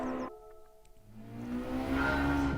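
A Daihatsu car engine in Gran Turismo 7 rumbles low and steady, rising into a louder revving drone toward the end.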